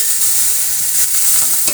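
Small fish dropped into a pan of fried onion, garlic and green chilli, loud, close, continuous sizzling with stirring, no voices.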